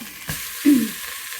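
Meat searing in a pan for pot roast, a steady soft sizzle with a brief clatter and a short louder hiss midway, fairly close and without talking.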